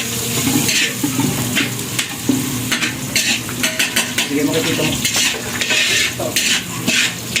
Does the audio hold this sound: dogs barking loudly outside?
no